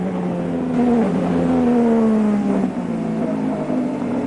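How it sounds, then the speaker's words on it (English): Formula 1 cars from the 1992 Australian Grand Prix, 700-plus horsepower engines, howl and rev in a sustained high-pitched whine with shifting pitch, loud and close, with no talk over it. "the 700 plus horsepower engines punch out their exhaust"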